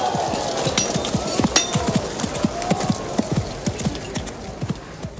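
A horse galloping at a medieval knights' ring-tilting event, hooves clip-clopping in a fast, steady rhythm, loud and close, with no talk over it.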